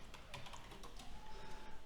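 Typing on an unfamiliar computer keyboard, soft, quick clusters of key clicks at a quiet level over faint room noise.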